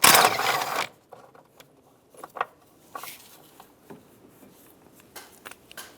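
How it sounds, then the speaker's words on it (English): A 13mm socket wrench works loose the battery hold-down on a 2007-2013 Chevy Silverado pickup, giving sparse, quiet ratcheting clicks and small metallic taps after a brief loud burst of broadband noise at the start. "Remove the battery hold down. Use a 13mm socket."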